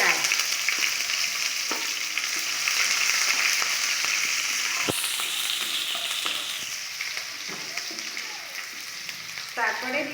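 Chopped onions drop into sizzling oil with black cumin, the frying flaring into a loud, crackling sizzle that continues steadily, broken by scraping stirs and clatter near the end.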